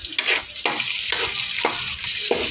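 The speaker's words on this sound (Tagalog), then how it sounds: "Igisa-gisa lang yung sibuyas." Onions and garlic sizzle in hot oil in a pan, with crackling frying broken by several stirring scrapes at a steady rhythm, close and moderately loud.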